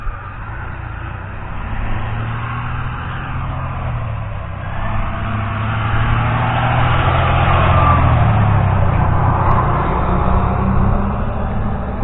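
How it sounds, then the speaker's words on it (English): A big truck rolls past out by a farm field, a low engine rumble that swells and fades as it goes by, steady and fairly close, with no talk over it. "Here comes a big truck."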